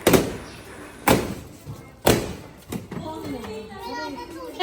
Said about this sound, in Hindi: बलून फोड़ दिए